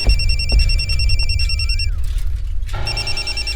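A telephone rings loud and steady with repeated bright electronic trilling tones, breaking off briefly and then starting again over a dense background of music and room noise.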